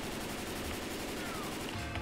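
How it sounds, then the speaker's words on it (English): Rapid automatic gunfire in Left 4 Dead 2, a dense, steady rattle of shots running without pause under game ambience, fairly quiet overall. "I'll go in. I'll shoot."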